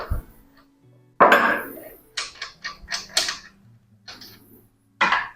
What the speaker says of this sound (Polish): Należy odkręcić jedyną nakrętkę od czoła pompy, tak żeby zdjąć tą pokrywę czołową.